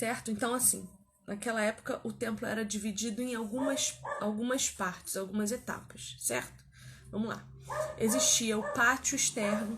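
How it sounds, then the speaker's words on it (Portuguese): A dog barks and yips behind a person who keeps talking in the foreground. The barking is mixed under the continuous speech. "o cachorro late"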